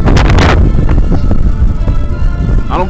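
Strong wind buffeting a microphone outdoors in a parking lot, a loud continuous low roar with a few sharp gusty thumps at the start.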